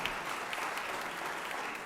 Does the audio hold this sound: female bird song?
no